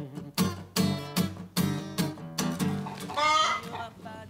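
Hens cluck in a run of close, loud, evenly paced calls, with a higher, drawn-out squawk near the end.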